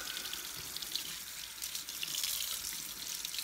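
Tap water runs steadily into a sink while a rag and a plastic model horse are rinsed beneath it, a continuous close splashing hiss with small uneven surges as the water hits the objects.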